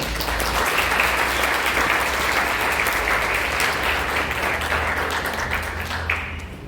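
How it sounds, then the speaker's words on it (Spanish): An audience at a talk on environmental risk management and vulnerability gives a loud, sustained round of applause to welcome a speaker, with a low steady hum beneath the clapping that tapers slightly at the end. "Un fuerte aplauso, por favor."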